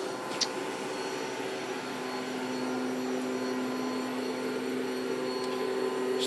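An electric motor in a Factory Five Mk4 electric car runs steadily at about 12 volts, giving a constant, even hum with no talk over it.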